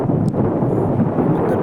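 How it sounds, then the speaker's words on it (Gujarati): Strong wind gusts across Shivrajpur beach near Dwarka, a steady, loud buffeting roar against the microphone that never lets up. "પવનના સુસવાટા એક નંબર બોલે, કાંઈ ઘટે નહીં એવો પવન છે"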